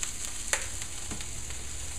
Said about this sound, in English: So I've been roasting, tenderizing these vegetables now for about 4 minutes or so, stirring them around here and there.